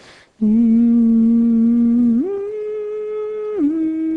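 A voice imitates an accelerating train: a sustained buzzy hum held at a steady pitch, then stepping up in two distinct jumps, loud and close with no other sound.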